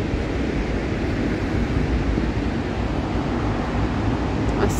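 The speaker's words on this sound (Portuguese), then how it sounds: "do lado de fora do parque já dá pra ouvir o barulho da cachoeira, de tão alto que é a queda dela" Distant roar of Cachoeira da Fumaça, a 144-metre waterfall, heard from outside the park as a steady broadband rushing wash with no clear breaks, moderately loud and uniform throughout.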